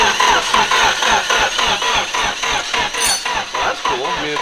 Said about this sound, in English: No, let it crank. Cool. I mean, it's cranking a little slow.